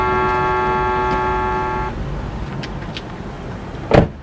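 A car engine cranks without catching: a steady, droning starter whine runs for about two seconds and then cuts out, followed by a quiet pause and one short knock near the end.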